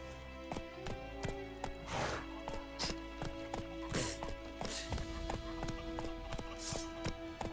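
Roach the horse from The Witcher 3 trots along with a brisk, even clip-clop of hooves, close and steady over quiet game music.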